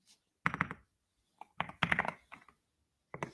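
Someone types on a computer keyboard in quick clusters of clacking keystrokes separated by short pauses, close and fairly quiet with no talk.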